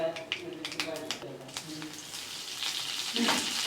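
Mustard seeds and cumin crackle and sizzle in hot oil as curry leaves go in, a close, steady frying hiss with scattered pops, and a voice talks over it.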